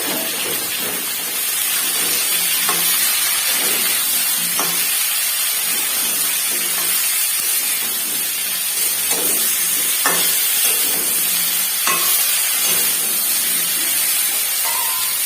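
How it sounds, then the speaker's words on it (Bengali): Cauliflower and potatoes frying with turmeric and salt in a pan produce a long, even hissing sizzle with scattered light crackles and occasional stirring clinks, steady and close throughout with no talking. "একটু লবণ দিয়ে এটাকে ফ্রাই করে দেবো।"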